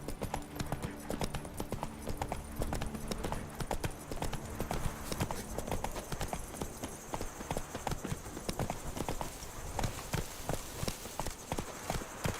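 Roach the horse gallops in The Witcher 3, a fast, continuous clatter of hoofbeats that runs the whole stretch at close range with no pause.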